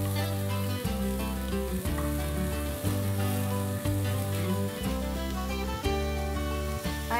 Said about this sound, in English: Now we cook the onions nicely.